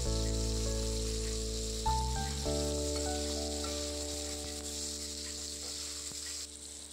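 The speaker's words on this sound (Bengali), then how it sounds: "দিয়ে ভালো করে আলুটা নরম হওয়া পর্যন্ত ভেজে নেব।" Diced potato cubes fry in oil over a chili tempering in a village kitchen for a fenugreek-greens ghonto, giving a steady broadband sizzle with a faint hum beneath, continuous and unbroken for the whole stretch.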